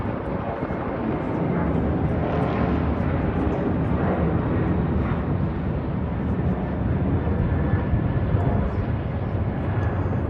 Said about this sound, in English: I think this is the news chopper right up here